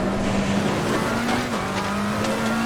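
Ferrari 488 race car braking hard in a GT sim racing video game, a loud sustained engine drone that dips in pitch as it slows, with faint tire noise.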